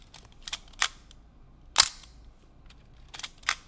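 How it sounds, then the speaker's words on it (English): Film camera shutter fired repeatedly, a series of sharp, dry mechanical clicks at irregular intervals, close to the microphone in a quiet room with faint background hiss, no talking. "One is my film camera, which I am triggering right now."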